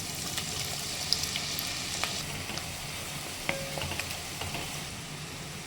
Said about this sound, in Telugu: తగినంత నూనె పోసుకోవాలి ఉల్లిపాయ పచ్చిమిర్చి వేసుకోవాలి